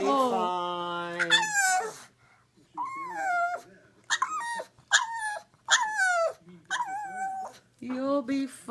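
A sad puppy whimpers and cries without stopping, giving a long series of high, wavering whines and yelps close up, in short bursts separated by brief pauses.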